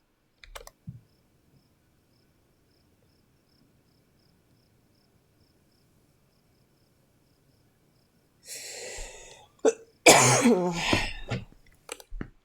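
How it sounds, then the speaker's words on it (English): A person on observation duty coughs and sniffles indoors. After a long quiet stretch with faint insect chirps, a throat-clearing cough and sniffles come close up near the end, followed by several louder coughs. "I apologize for the occasional coughing and the sniffling"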